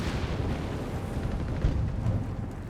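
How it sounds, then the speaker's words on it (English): Artillery shells hit a Flak 30 anti-aircraft gun in Company of Heroes 3, heard as a rumbling, continuous barrage of deep booms and explosions at steady loudness. "South here, Flak 30 getting hit with artillery again from the captain."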